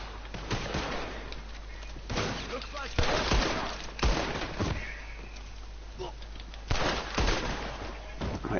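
Gunfire in Red Dead Redemption 2 as enemies are picked off with headshots: repeated sharp shots and bursts, fairly muffled and moderate in level, spread irregularly over a steady background of game noise.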